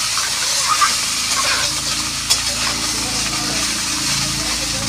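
Dried cauliflower frying in a pan, a steady broad sizzle and hiss running throughout at moderate level, with faint pan stirring and a brief clink near the middle.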